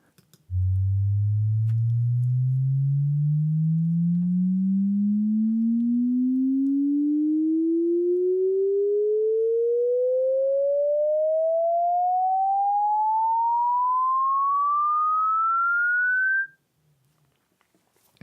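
A pure sine tone glides smoothly upward in a logarithmic sweep from a low hum to a high pitch over about sixteen seconds, steady in loudness, then cuts off.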